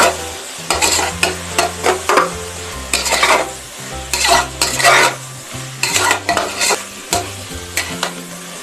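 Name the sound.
stirring and frying spices for village-style mutton curry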